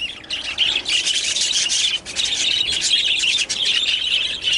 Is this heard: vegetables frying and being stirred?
no